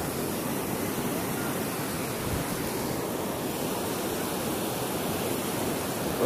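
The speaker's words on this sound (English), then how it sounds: "look at the waves coming in" Ocean waves roll onto a sandy beach as a steady, broad wash of surf noise that stays even and continuous, with no voices over it.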